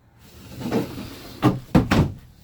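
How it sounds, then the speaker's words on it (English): Large, deep drawers in a 2019 Cherokee Grey Wolf 26DBH travel trailer sliding open and shut, a soft rolling glide followed by two close wooden knocks as they close, with no talk. "Check these drawers out here. These drawers are huge."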